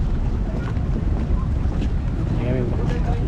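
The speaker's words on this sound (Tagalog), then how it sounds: "Ayan yung bangka namin." A boat at the Boracay island-hopping port, heard as a constant low rumble with heavy wind buffeting and water noise. Faint voices are mixed in.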